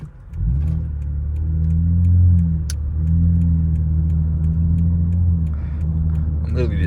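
Lexus ES350 engine droning steadily while driving, a loud low rumble that rises and eases with the throttle, heard from the cabin under a voice.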